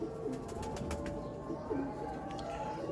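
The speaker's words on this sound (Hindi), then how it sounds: "शेखा वाले पुराने कबूतर" Old-bloodline Sialkoti pigeons coo softly in repeated low, throaty calls, a few seconds of gentle cooing over a steady background hum.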